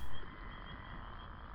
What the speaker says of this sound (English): Seems a little weird that we're hearing crickets and frogs right now